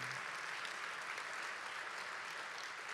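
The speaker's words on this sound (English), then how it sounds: "Give them a round of applause on that." A school band concert audience applauds after a performance, steady and fairly faint clapping from a hall full of people.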